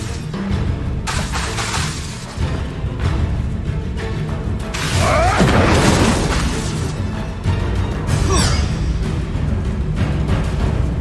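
In Hogwarts Legacy, an Incendio fire spell is cast with a roaring whoosh and a burst of flame, followed by shattering, crackling impacts and a second bright burst against steady game background sound.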